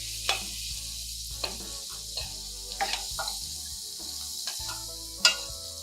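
Onions and curry leaves sizzle in hot oil as a tempering for a quick flattened-rice upma, giving a steady close-up fry with occasional pops and stirring scrapes.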